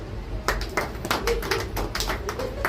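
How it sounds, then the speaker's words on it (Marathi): Hands clap in a steady rhythm during a Marathi-language church worship gathering, with about ten distinct close claps over a low background hum and faint voices. "आम्ही छान टाळी वाजलो"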